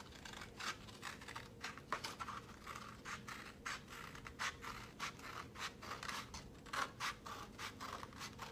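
Scissors snip through paper while cutting out a heart shape, a quiet run of short, crisp cuts in an uneven rhythm, close and alone.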